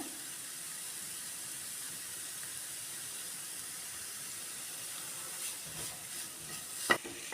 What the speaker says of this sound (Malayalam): ഇതൊന്ന് ഡ്രൈ ആയി വരാൻ നമുക്ക് മിക്സ് ചെയ്ത് കൊടുക്കാം